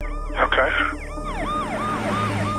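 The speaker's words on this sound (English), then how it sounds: "there is a officer that's apparently affiliated with your agency with his emergency lights on and his siren on" A police car siren wails in repeated rising and falling sweeps, loud and close, with a person speaking briefly at the start.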